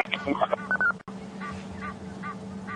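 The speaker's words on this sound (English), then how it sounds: "We can hear an Egyptian goose. Sounds like it's alarming." An Egyptian goose gives a short series of harsh, honking alarm calls in the open bush. Several quick calls come close together, then more spaced honks follow at moderate distance over a steady low background hum.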